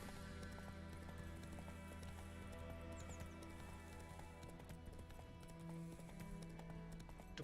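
Hooves of the horse Roach clip-clop at a steady trot in The Witcher 3, with a constant ambient background and no speech.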